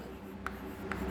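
Chalk or marker writing out a general solution on a board, two short faint scratchy strokes against a quiet room hum.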